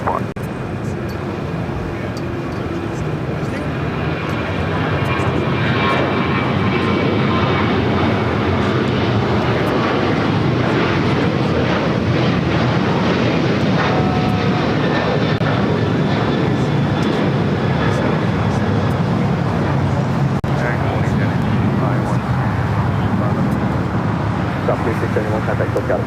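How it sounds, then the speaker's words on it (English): A Southwest Airlines Boeing 737-800 takes off from LAX bound for Austin, its jet engines building into a loud, sustained roar that swells after a few seconds and holds steady, with voices talking faintly over it. "That was Southwest Airlines Flight 3671 heading to Austin, Texas in the 737-800."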